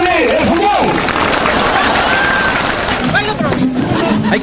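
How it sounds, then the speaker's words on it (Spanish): Prison inmates at Lurigancho applaud, a dense wash of clapping and crowd noise filling the whole stretch, with a voice talking over it. "Creo que eso merece un fuerte voto de aplauso."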